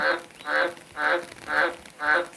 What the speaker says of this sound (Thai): กบก็พากันร้อง